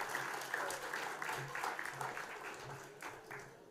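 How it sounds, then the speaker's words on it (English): An audience at a sports awards night applauds steadily for several seconds, a dense, even wash of clapping at moderate volume with murmuring voices mixed underneath. "Give Alan a round of applause."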